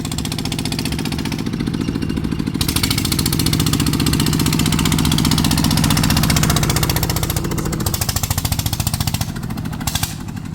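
An engine (the model 95) running loud and close during a system test on a newly built farm vehicle, a fast steady knocking chug that holds level for the whole stretch with no talking.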